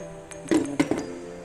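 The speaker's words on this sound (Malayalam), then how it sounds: "അത് മൂടി വെക്കുകയാണ്" A lid is set over a cooking pot of chicken-bone and tapioca dish, giving a few quick clinks around the middle of the moment, close and moderately loud against quiet kitchen background.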